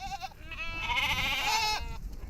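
Goats crowding around herders in hot, dry Kenyan country give a loud, wavering bleat up close, a single drawn-out quavering call lasting about a second amid faint background noise.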